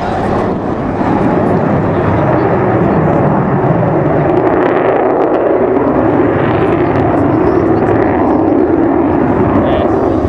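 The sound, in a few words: Avro Vulcan bomber flying display at RIAT 2010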